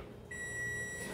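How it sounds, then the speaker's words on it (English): Electronic oven timer buzzer going off in a home kitchen while peanut butter cookies bake, a single steady high-pitched tone that starts abruptly after a quiet moment and holds for about a second. "you're going to hear a buzzer go off. That's my oven timer."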